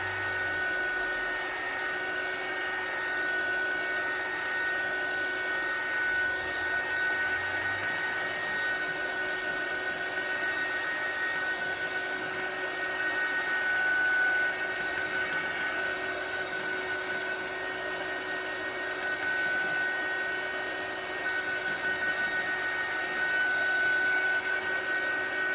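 A heat tool drying paint on an art journal page, a continuous close whirring blower hiss with a faint tonal whine, holding steady for the whole stretch without speech.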